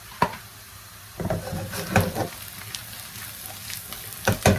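Potatoes and onions frying and slowly browning in a pan: a steady close sizzle with occasional louder crackles and spoon scrapes, no talk.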